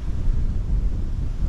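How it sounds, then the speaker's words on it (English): Low, rumbling wind noise at Lake Lascelles, Hopetoun, Victoria buffets a sock-covered microphone steadily throughout, with no other distinct sounds. "It's a bit windy."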